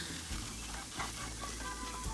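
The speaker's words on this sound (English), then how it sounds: "It's low heat, but I'm sure you can hear it sizzle." Diced apples sizzle in a pan on low heat, giving a faint, steady crackling hiss with occasional small pops and stirring sounds.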